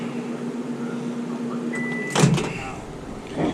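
A microwave oven hums steadily in a shop while heating a fishing bait mixture, then a loud clunk and a short beep from the door or controls break the drone near the end.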